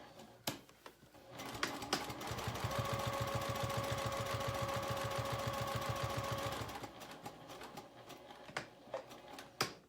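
A sewing machine stitches along the bottom of a zipper pouch in one steady, rapid run of needle pulses lasting about four seconds, with quiet handling clicks before and after.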